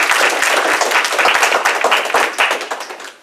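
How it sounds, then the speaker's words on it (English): A crowd at a Hungry Club speaking event in Savannah, Georgia breaks into loud, dense applause, many hands clapping close together in a sustained burst that tapers slightly at the end. "Now give yourself a round of applause."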